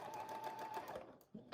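A sewing machine hums through a quick burst of stitching along a cloth napkin edge, then stops with a couple of soft clicks, close and fairly quiet.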